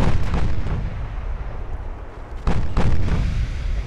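Battleship main guns firing in Ultimate Admiral: Dreadnoughts: a US super battleship's deep rumbling salvos, a heavy boom at the start and another sharp blast later, each followed by long low rolling thunder.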